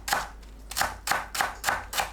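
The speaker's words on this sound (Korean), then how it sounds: "케일 줄기 부분을 작게 썰어주세요." Knife chopping kale stems on a cutting board: six evenly spaced, crisp thuds about every 0.3 seconds, close and clear, alone without talk.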